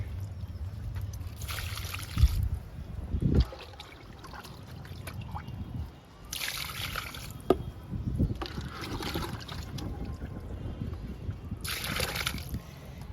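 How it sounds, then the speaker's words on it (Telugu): Kitchen-waste liquid poured from a container onto the soil of a large lemon plant, a steady trickling and splashing of water running for several seconds with a few brief knocks, no one talking. "ఈ లిక్విడ్ మొత్తం నిమ్మ మొక్కకి ఇస్తున్నానండి"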